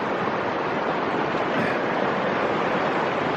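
Creek water flowing swiftly at Shingle Creek, a loud, steady, close rushing wash with no breaks.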